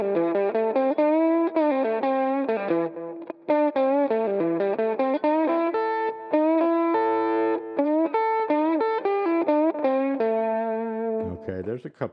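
Distorted electric guitar plays quick classic-rock minor pentatonic licks with a bluesy, effects-laden tone, running as a continuous phrase of bent and sliding notes with no talking.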